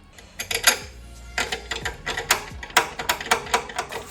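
Small spanners tighten the bonnet strut fittings on a Fiesta ST, giving a close, fast run of sharp metallic ratchet clicks in uneven bursts with short pauses between them.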